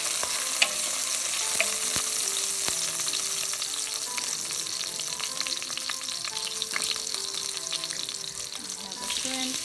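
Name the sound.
frying shrimp, garlic and vegetables for pancit guisado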